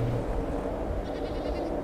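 A goat bleats in the horror video game Yuki Onna, a rough, nasal cry held through the moment, moderately loud over a dense game soundscape with no speech.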